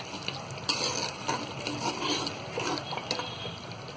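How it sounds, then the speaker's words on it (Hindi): Mutton korma fries and sizzles in a pan while being stirred continuously, a steady close crackle with scraping strokes of the spoon. "तो यहाँ ये कोरमा भुनने लगा है।"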